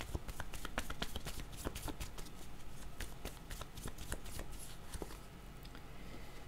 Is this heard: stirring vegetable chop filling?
no